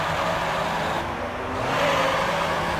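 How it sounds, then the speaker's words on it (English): A race car engine, similar to a Pagani Zonda's, in Gran Turismo Concept on the Tokyo R246 circuit: a continuous loud, high-revving roar that dips briefly and then climbs again, close and alone. "this thing appears to have the same engine as the Zonda, judging by the sound effects"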